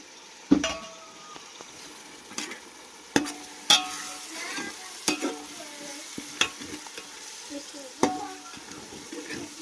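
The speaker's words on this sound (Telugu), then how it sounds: "కొత్తిమీర పేస్ట్ కూడా వేసేసుకొని బాగా కలబెట్టేసుకుందాము" A spoon stirs coriander paste into tomatoes frying in a pan, giving irregular scrapes and clinks over a soft, steady sizzle, close up and with no talking.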